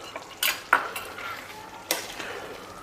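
A utensil stirs homemade cream into cauliflower curry in a metal pot, with a few sharp scraping clinks against the sides between softer, wet mixing sounds, close and alone.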